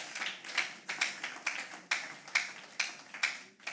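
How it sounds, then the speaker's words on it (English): An audience at a talk claps in a round of applause, a few distinct bursts of hand claps rising and fading over several seconds, moderately close with no speech. "Can we give a round of applause for that?"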